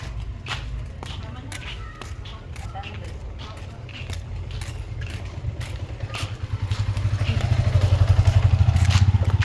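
Motorcycle engine passing on a street in Bulacan, a low rumble that swells toward the end as it draws close, with clattering footsteps and people talking over it.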